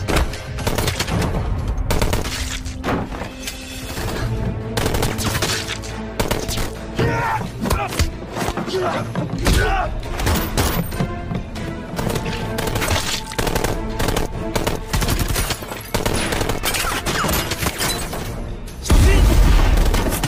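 Gunfire in a shootout from a Korean action film about a former police officer fighting gangsters alone, dense and loud bursts of automatic fire, booms and impacts mixed with a driving film score, continuous throughout.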